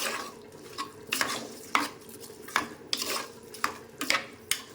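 Rice being fried and stirred in a pot for biryani, with a spoon repeatedly scraping and clinking against the metal about every half second over a soft sizzle, close and moderately loud.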